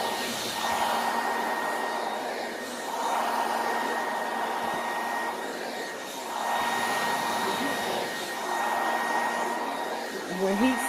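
Blow dryer heat-setting the ventilated knots of a lace wig gives a steady close whooshing roar that swells and dips in waves as the airflow is moved back and forth.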